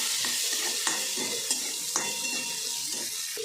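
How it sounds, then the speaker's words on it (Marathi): Finely chopped onion fries in a pan after garlic for a cauliflower bhaji, a continuous close sizzle broken by light spatula stirs and occasional small clinks against the pan. "बारीक चिरलेला कांदा चांगला ब्राऊन होईपर्यंत चांगला भाजून घ्यायचा"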